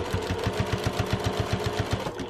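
A sewing machine stitches the seam of a tea cozy, running in a fast, even rhythmic chatter of needle strokes, steady and close with no talking.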